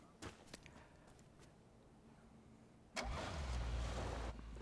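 A car in the battle royale game PUBG sits quiet with a few faint clicks, then its engine kicks in abruptly and holds a loud, steady rumble to the end.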